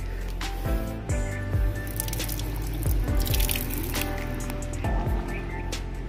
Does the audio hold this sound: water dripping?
yes